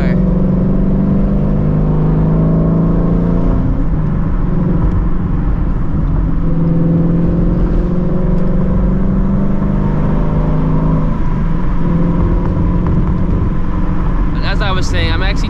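Ford Shelby GT350 driving with a steady low engine drone and road rumble heard from inside the cabin, with a voice talking over it throughout.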